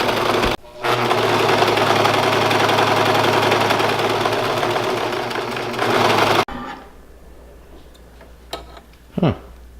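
A four-thread serger runs loudly and steadily for about six seconds while sewing curtain fabric, then stops abruptly, leaving quiet room noise with a few faint clicks and brief handling sounds.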